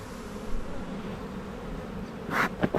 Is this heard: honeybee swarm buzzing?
yes